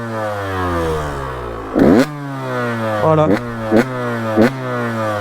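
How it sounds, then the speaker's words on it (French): A KTM 125 EXC two-stroke dirt bike idles nearby with a buzzy, raspy tone, then is revved in several sharp bursts that climb and drop back. A voice briefly speaks near the end. "Je vais vous faire écouter la moto parce que je sais qu'il y en a parmi entre vous qui kiffent le 2 temps."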